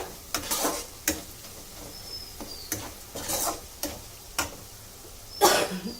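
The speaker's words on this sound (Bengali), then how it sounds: "তেল ছাড়া ছাড়া মতো হয়ে এসছে, ভালোভাবে ভাজা হয়ে গেছে মশলাটা" Spice paste for egg pulao sizzles steadily in hot oil while a spoon scrapes and stirs the pan in repeated sharp strokes.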